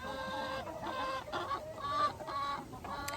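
Chickens at a small farm clucking repeatedly in a busy, close chorus, with several birds overlapping in short rhythmic bursts and no talking.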